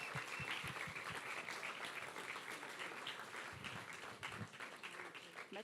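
Applause welcomes a speaker onto a stage, a faint, steady patter of clapping from a crowd heard at a distance for several seconds.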